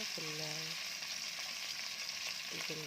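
Beef kebab pieces searing in hot oil in a pan, a steady dense hiss of frying throughout, with brief faint voice sounds at the start and near the end.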